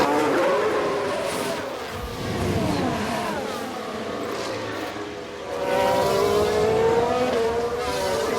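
Race car engine in F1 Manager 22, a Ferrari locking a wheel under braking: a loud, continuous engine drone with pitch sweeping down then climbing again as it recovers, close and steady throughout with no talk.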